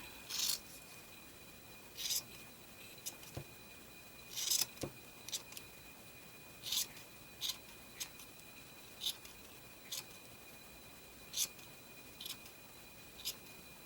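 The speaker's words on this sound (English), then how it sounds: "And then I just trim off the edging." Scissors trimming the paper edging of a small tassel ghost decoration for a junk journal, heard as a series of short, crisp snips spaced irregularly at close range in a quiet room.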